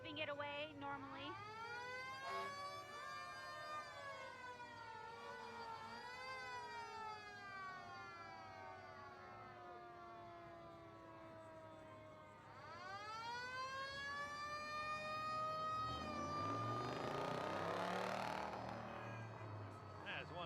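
An old fire truck's mechanical siren wails at a Christmas parade, rising and falling in long, loud sweeps, winding down, then spinning up again to a harsh peak, heard close by in the open street.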